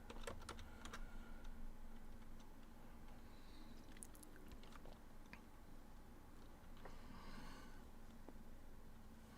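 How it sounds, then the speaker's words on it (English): Soft, rapid clicking of computer keyboard keys being typed, with irregular bursts of taps over a faint steady background hum, quiet and close. "What are you typing away on your key there, Susan?"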